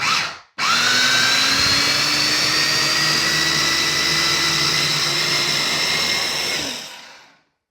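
A blender whirs loudly and steadily as it blitzes homemade cream cheese, starting after a brief cut, holding a constant high whine for several seconds, then spinning down to silence.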